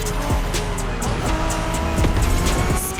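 Honda NSX, a 90s Japanese sports car, racing in The Crew Motorfest, its engine revving loudly and shifting pitch as tires squeal in short bursts, close and continuous, with no voices.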